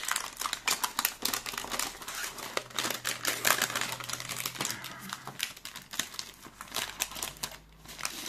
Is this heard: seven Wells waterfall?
no